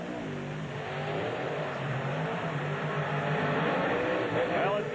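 Eric Meager's Ford Bigfoot monster truck engine drones loud and continuous near a dirt race track, the revs slowly rising, with an announcer talking over it.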